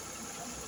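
A freshly rebuilt RB20 engine idles on its first morning start after the rebuild, a steady, even mechanical drone with a faint knock-like texture.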